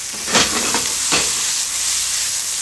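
Food for a clam sauce sizzles steadily in a hot frying pan, a constant bright hiss with a couple of stirring scrapes near the start.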